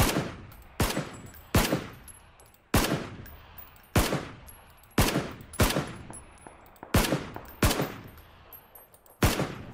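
A dozen or so loud gunshots ring out in PUBG, spaced irregularly, each leaving a decaying echo tail. The shots are heard alone, with no voices.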